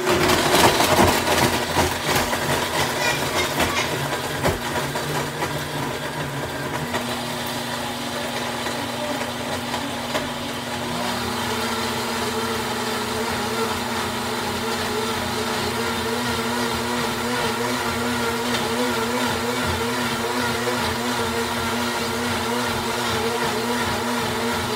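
A motor whirs continuously at a high, steady pitch, its tone shifting slightly partway through as it keeps grinding on without stopping.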